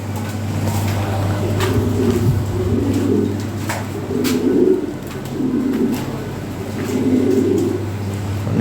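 Big-sized breeding pigeons in a cage coo in a slow series of low, rolling calls at close range, five or so rounds over a constant background hum.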